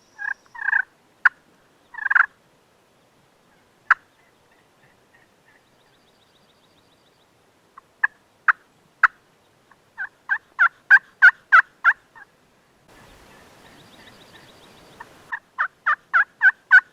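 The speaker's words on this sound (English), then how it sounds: "Trying to find a turkey that wants to work." A wild turkey gobbles repeatedly in spring in the Black Hills of South Dakota, sharp rattling calls in scattered bursts, then quicker runs of loud notes, with a brief soft hiss between them.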